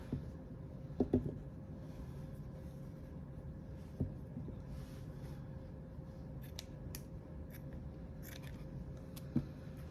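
Scissors snip the ribbon ends of a craft bow decorated with a gingerbread centerpiece: a few quiet close clips around the first second, then single snips near four and ten seconds over faint room hiss.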